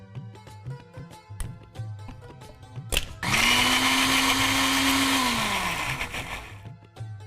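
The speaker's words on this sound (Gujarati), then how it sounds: "ગ્રાઇન્ડ કરી લેવાનું છે." A mixer grinder grinding spice paste with a little water in its jar, starting with a sharp click and then roaring loudly and steadily for several seconds with a high whirring motor whine before winding down; clatter and thumps precede it.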